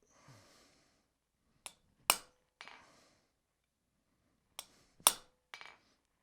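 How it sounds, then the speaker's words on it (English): An anvil devil takes sharp, ringing hammer blows as chisel marks are struck into iron while forging an 18th-century ratchet trammel hook, several isolated close metallic strikes in small groups separated by silence. "Because I have to make a chisel mark at each one of those spots where I'm going to chisel in that."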